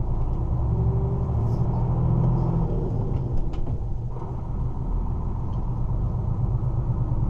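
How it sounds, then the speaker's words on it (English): A truck pulling away, its deep engine rumble loud and steady from inside the cab, with low road noise and faint rattles throughout. "I'm the first truck out."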